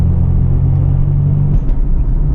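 A Toyota Supra MKIV with an R154 manual transmission pulls hard, its engine a loud, steady low rumble throughout, shifting slightly in tone partway through as it keeps accelerating.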